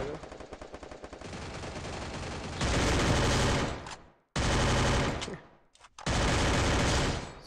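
Bursts of rapid automatic gunfire in the Free Fire video game, loud and dense, coming in several long sustained volleys separated by brief silent gaps.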